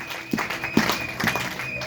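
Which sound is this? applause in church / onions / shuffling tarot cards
applause in church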